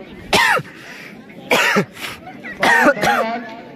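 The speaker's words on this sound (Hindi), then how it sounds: "तो काफी ज्यादा खांसी हो रही है" Several harsh coughs come in bursts, three main fits spaced across a few seconds, close and loud, with a throat-clearing rasp between them.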